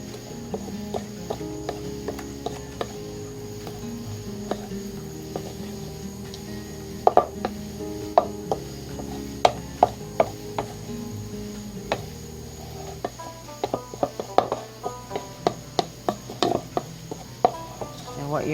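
Salmon croquette mixture with egg being stirred and mashed in a bowl, giving scattered soft clicks and taps of the utensil against the dish over a steady background, with no talking.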